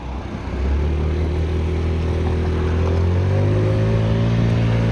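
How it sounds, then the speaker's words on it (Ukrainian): A small Yamaha Gear injection scooter engine hums steadily and then rises in pitch as it revs up, a close, continuous motor drone with no talking. "набирає скутер добре"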